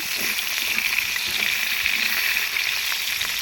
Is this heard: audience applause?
no